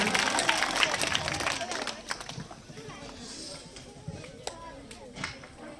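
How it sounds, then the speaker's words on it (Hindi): Clapping from a crowd at a Republic Day celebration at a government senior secondary school in Bhojpur, strongest at first and thinning into scattered claps, with talk and background noise throughout. "एक बार सर के लिए जोरदार तालियां"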